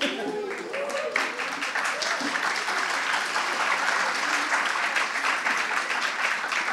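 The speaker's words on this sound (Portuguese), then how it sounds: "eu não esperava esse aplauso agora" An audience claps at a philanthropy panel on decent work, a dense, steady wash of applause that stays loud throughout.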